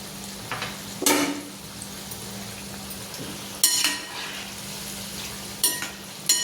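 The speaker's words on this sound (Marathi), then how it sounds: "थोडे थोडे तळून घ्यायचे मस्त" Diwali snacks frying in batches in hot oil give a steady soft sizzle, broken by three sharp metallic clinks and stirs of a utensil at regular intervals, with no talking.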